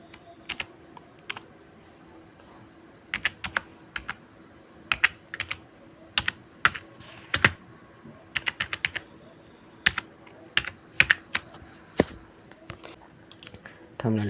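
A computer keyboard is typed on in short, irregular bursts of crisp, close keystrokes with pauses between words, over a quiet room hum.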